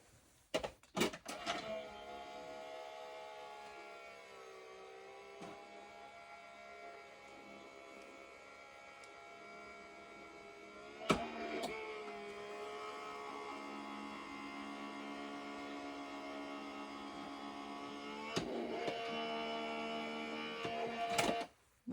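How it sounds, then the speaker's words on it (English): A die cut machine with an adapter plate runs steadily, its motor droning with a stable whine that holds close and alone, broken by a few sharp clicks and clunks at the start, midway and at the end. "So I'm just going to run this through my die cut machine."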